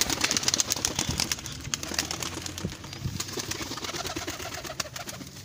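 Pigeons coo and murmur in a busy flock nearby, with occasional wing flaps and rustling, no talking.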